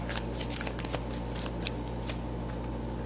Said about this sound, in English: let's open up these cards more